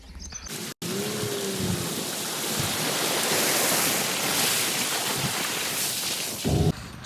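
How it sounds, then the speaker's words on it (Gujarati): Heavy rain pours steadily after a morning-long downpour, a dense, loud, continuous roar close by that runs almost unbroken apart from a brief cut near the start. "સખત સવારથી વરસાદ ચાલુ છે"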